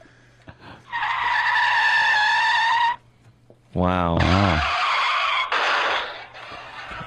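A car-crash sound effect plays loud and close: a long tire screech for about two seconds, then a brief pause, a vocal exclamation and a second squealing skid with crunching impact noise.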